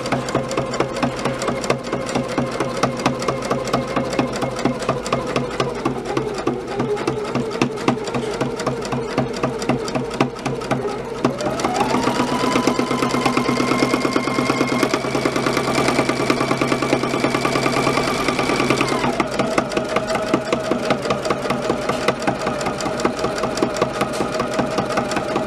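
A sewing machine hums through a long, steady run of free-motion quilting on straight lines, its rapid needle clatter continuous and close while the motor pitch shifts as the speed changes.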